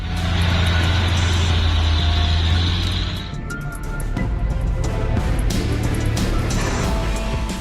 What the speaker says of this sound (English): it seems the brakes on this truck are malfunctioning, causing it to slide back down the slope